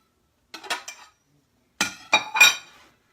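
A cookie cake is flipped out of a 10-inch non-stick fry pan onto a platter, producing two close clusters of clinks and clatters of metal and ceramic, separated by a short silence.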